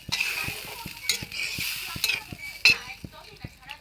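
Water added for the gravy of a rui fish curry, heating in a pan: a low simmering sizzle under repeated utensil scrapes and a few sharp metallic clinks, with faint voices in the background.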